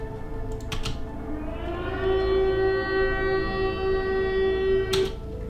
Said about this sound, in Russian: Этот звук воздушной тревоги.